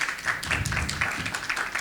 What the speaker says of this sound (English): we like to give you the big applause, big hand